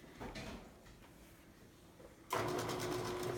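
A sewing machine stitching a pillow seam: quiet mechanical rattling at first, then a sudden louder, steady motor whir with a fast buzzing stitch rhythm close by.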